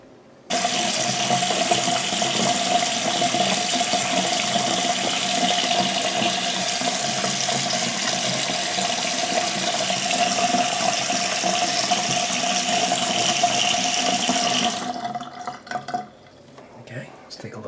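Steady rush of water pouring from a newly installed bathroom vanity sink faucet into the basin, close and continuous for about fourteen seconds before being shut off.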